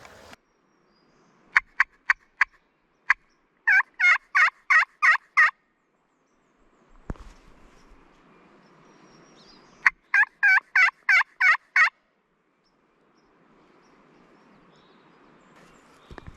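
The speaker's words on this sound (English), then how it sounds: "There's a hen down there that just yelped back to me" Wild turkey hen yelping in steep Tennessee woods, answered by a few sharp call notes, then two bursts of five or six evenly spaced raspy yelps, clear and fairly close against otherwise quiet forest.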